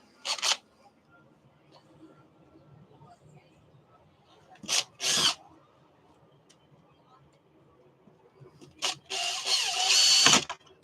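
A power drill drives 1.5-inch screws into wood inside a box truck build, several short whirring bursts separated by pauses, close and moderately loud over a faint low room background.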